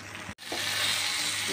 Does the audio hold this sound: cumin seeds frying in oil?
yes